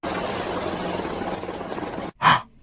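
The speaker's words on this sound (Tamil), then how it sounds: "என்ன ஹெலிகாப்டர் சத்தம் கேக்குது?" A helicopter drones loud and steady close overhead with a constant rotor roar and a thin high whine, then stops abruptly and a short gasp-like vocal burst follows.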